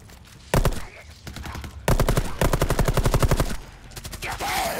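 Rapid automatic gunfire rattles in Rainbow Six Siege during an outbreak-mode match, with bursts of close, loud shots starting and stopping, followed by a longer sustained stream of fire.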